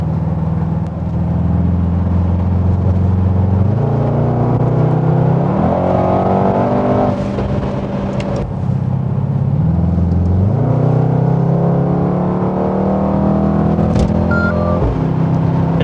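Mercedes-AMG GT63S with a 639-horsepower engine accelerating hard while driving. Its loud, close engine note climbs steadily through the gears, with clear drops at each upshift, under a continuous rumble and no talking.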